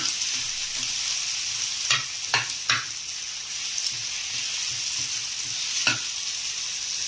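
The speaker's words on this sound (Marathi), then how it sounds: "आता कांदा भरपून झालेला आता टॅमॅटो टाकलेला टॅमॅटो चांगलं परतून घ्यायचं" Tomatoes and onion sautéing in a pan, a constant hiss of frying broken by several sharp scrapes and clacks of a spoon stirring, close and without speech.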